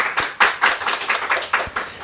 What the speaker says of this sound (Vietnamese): Tôi cứ tự khen mình bằng một tràng pháo tay thôi.